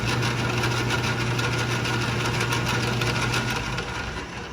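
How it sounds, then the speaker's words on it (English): A Craftsman Atlas lathe runs with its carriage feed engaged, giving a steady, moderately loud mechanical hum and whir that holds evenly before easing off slightly at the end, with no voices. "now the carriage feed works on the cross slide"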